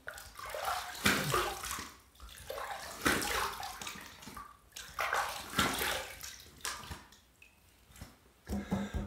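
Tap water runs in bursts as a razor is rinsed while shaving, splashing and gurgling in several separate pours with short quiet gaps between.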